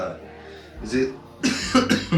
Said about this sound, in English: I got this dry cough.